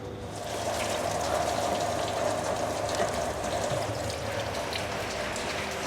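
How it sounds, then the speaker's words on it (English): Coolant rushes steadily out of a Kia Sedona engine block into a drain pan, a continuous close splashing gush that holds at an even level throughout. "You can hear all that coolant rushing out from the block."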